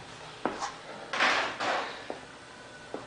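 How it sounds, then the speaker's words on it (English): A plastic click, then two scraping slides of a photocopier's memory access cover being pulled back, followed by a few light knocks and clicks. "Pull the memory access cover off just by pulling it back."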